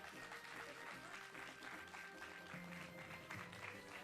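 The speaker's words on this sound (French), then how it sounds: "on peut les applaudir bien fort." Audience applauding players after a Super Smash Bros. Ultimate tournament grand final, a faint, distant, steady patter of clapping from a crowd with some murmur underneath.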